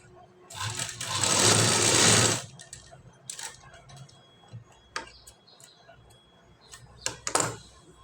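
Sewing machine stitching cloth while neat dots are sewn, one loud continuous run of stitching for under two seconds, then a few scattered clicks and light handling knocks.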